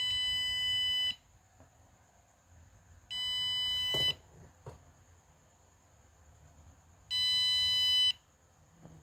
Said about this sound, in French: la LED s'allume et le buzzer retentit